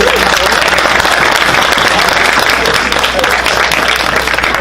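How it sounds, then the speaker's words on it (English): A large audience bursts into loud, sustained clapping and cheering for a performing group, the crowd noise filling the room at close range and holding steady from start to finish. "Let's give them a round of applause."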